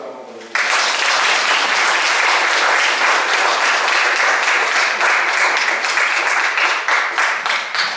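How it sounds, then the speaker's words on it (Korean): A church congregation bursts into loud, sustained applause for Isaac and Joshua during a Sunday service, steady clapping that starts abruptly and carries on for several seconds before easing slightly. "우리 아이삭과 조슈아 우리 두 분에게 박수 한번 보내드립니다"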